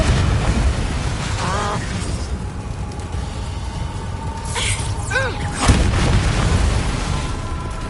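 Booming Confringo spell blasts in the game Hogwarts Legacy, several heavy low explosions with whooshing magic effects across the stretch and a sharp burst near the end, dense game combat sound throughout.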